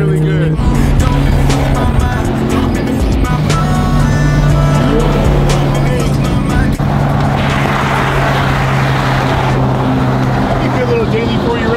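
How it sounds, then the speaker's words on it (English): A supercar's exhaust roars loudly and continuously as the car passes close by, its engine note rising and shifting under people talking. "You hear that exhaust"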